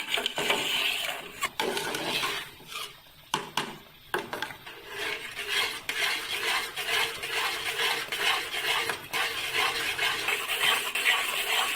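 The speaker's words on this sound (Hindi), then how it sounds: "ऐसे अब हम इसको चम्मच चलाते जाएंगे ताकि हमारा हलवा जो है ना नीचे देसी घी होने लगे।" A spoon works through semolina halwa cooking in desi ghee, giving irregular scraping and clinking strokes against the pan with brief pauses between bursts, close and fairly loud, and no one speaks.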